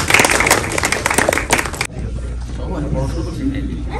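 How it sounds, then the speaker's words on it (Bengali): Crowd clapping at the special premiere show of the film Taandob, held with director Raihan Rafi at Hollywood; dense, loud applause for just under two seconds, then it cuts abruptly to quieter room murmur. "আমরা আমাদের জন্য একটা করতালি দিয়ে শেষ করে আসছি"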